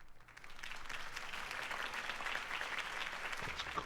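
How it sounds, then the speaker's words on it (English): A crowd in the Telltale Batman video game applauds after a mayoral campaign speech: a dense, even wash of many hands clapping that holds steady for a few seconds at moderate volume. "If only Mr. Wayne, my campaign's largest backer, could have heard that applause"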